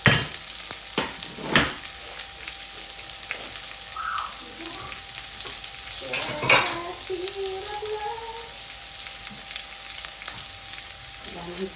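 Garlic and pork fry in a pan, with a close, crackling sizzle and scraping stirs. Sharp utensil knocks come now and then, with a faint murmur of speech in the background.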